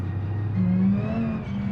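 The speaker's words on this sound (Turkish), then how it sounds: "o ses nereden geliyor öyle biri gazlıyor falan." A car engine revs up in a drag racing video game, its pitch rising and holding in a steady, close, synthetic-sounding whine, with no talking over it.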